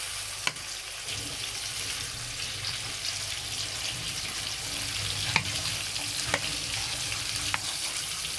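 Rohu fish frying in oil gives a steady sizzle with occasional sharp pops and crackles, close and moderately quiet, with no talking.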